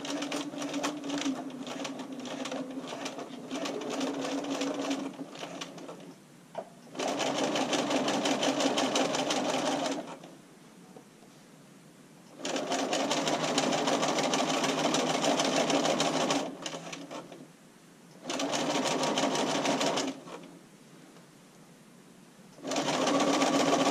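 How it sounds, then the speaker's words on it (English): A sewing machine runs a straight stitch along bra elastic, its fast mechanical whir coming in several bursts of a few seconds each, separated by quiet pauses as the sewing stops and starts. "And then I just sew a straight stitch lining up as I go."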